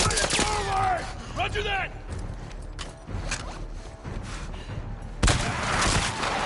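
Shotgun blasts and other gunfire in The Last of Us Part II, loud and close in rapid bursts, with shouting voices in the middle of the fight.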